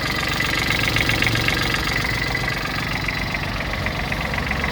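A Kubota Aste A155 mini tractor engine idles steadily and close up, a constant low mechanical rumble with a faint rhythmic knock and no talking.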